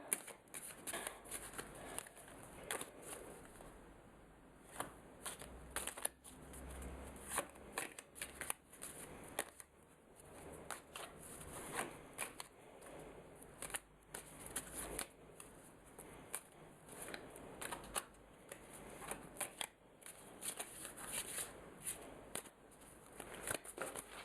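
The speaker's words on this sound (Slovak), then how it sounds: "Teraz karty zamiecham." A deck of playing cards is shuffled repeatedly during a card trick, with bursts of crisp riffling and flicking that come in uneven waves, close up and with no talk.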